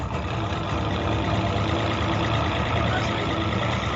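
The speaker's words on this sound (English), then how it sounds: "This is how you start a motor." An outboard boat motor rumbles steadily at a low idle at a bass fishing tournament, a constant mechanical chug with no voices.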